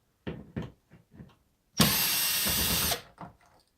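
Cordless screw gun backing screws out of the rear of a 2010 Chrysler Town and Country during a backup camera swap: a few short clicks, then one sustained whirring burst for about a second, then more handling clicks.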